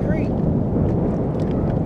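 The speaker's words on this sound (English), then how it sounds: "it's a little windy" Wind gusting across a microphone beside Hurricane Creek during a fishing outing. It makes a continuous, close, rough buffeting roar, with people talking over it.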